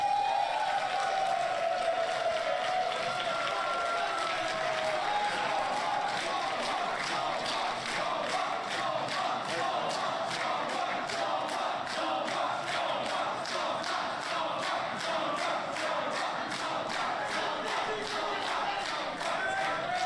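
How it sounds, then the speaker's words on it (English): Loud, steady crowd applause and cheering for an esports tournament winner at an award ceremony, a dense wall of rapid clapping sustained for the whole stretch with raised voices and a whistle-like tone near the start. "Can I give one more applause for our winner of Valhalla"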